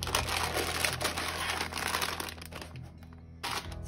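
Close crinkling and rustling of a small blue and white striped paper gift bag with a sticker being opened, a continuous crackly texture that drops away briefly near the end before resuming.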